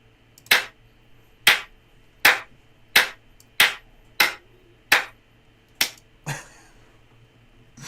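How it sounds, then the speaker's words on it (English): Hand clapping from a played video clip: nine sharp, evenly spaced claps about a second apart, loud and close, the last slightly softer and looser, with no talk. "I love that last hand clap."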